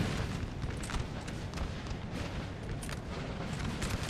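Napoleonic cannon fire in a Napoleon: Total War land battle, a dense rumbling barrage of overlapping booms and distant battlefield din, continuous with no gaps.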